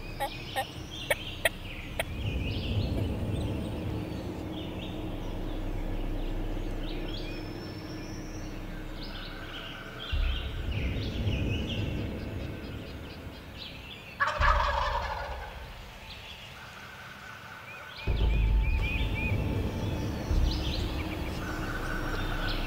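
Wild turkey toms gobbling near a clover food plot, with several loud rattling gobble bursts spread across the stretch, some close and some farther off, over quiet outdoor ambience.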